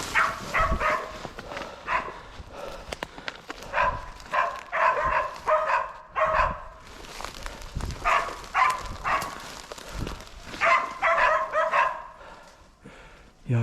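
Several dogs bark and yip repeatedly in bursts outdoors on a rural road, fairly close and persistent, with some rustling and faint talk in between.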